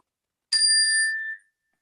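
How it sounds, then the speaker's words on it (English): A single chime is struck to close a speaker's turn in a group dialogue session: a bright, clear ring with sustained tonal partials that decays over about a second, alone in silence. "after every speaker, I'm going to hit the chime so we can actually go in and receive"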